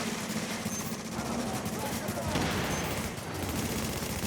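Rapid bursts of video game gunfire aimed for double headshots crackle steadily and densely throughout, with a voice audible underneath.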